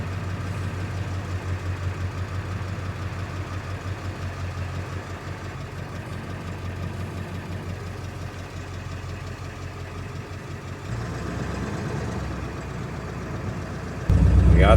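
A Ford 7.3 Powerstroke diesel pickup, freshly fitted with new injectors, idles in gear with a steady low clattering rumble, ending in a short louder burst.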